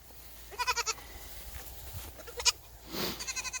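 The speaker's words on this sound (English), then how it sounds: "Oh, here comes Parkour Goat." Toggenburg goats bleat in short quavering bursts, several calls close by spread across a few seconds, with quieter farmyard background between them.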